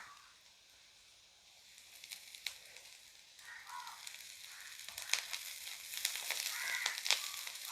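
Curry leaves and shallots frying in a pan, a steady close sizzle with crackling bursts that grow louder and sharper as the leaves hit the hot oil, no voices.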